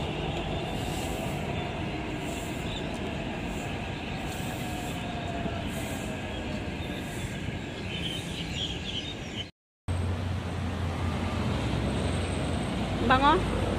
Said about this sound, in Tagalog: Ayan yung train oh.